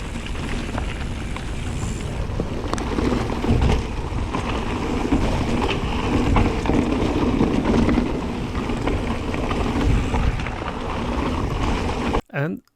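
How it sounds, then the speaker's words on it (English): A 2019 Rocky Mountain Instinct Powerplay e-mountain bike with a Dyname motor coasts downhill, mostly a loud, steady rush of wind and rolling tire rumble with no motor whine, cutting off abruptly near the end. "Here is the 2019 Rocky Mountain Instinct Powerplay with the Dyname motor"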